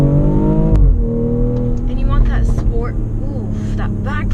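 A BMW X3 SUV engine drops off sharply from high revs with a pop, then settles into a steady exhaust drone as people talk over it inside the cabin.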